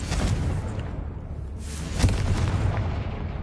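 A Confringo blasting curse from Hogwarts Legacy erupts as a loud, broad rumbling blast, with a sharper burst near the middle and a sustained roar throughout.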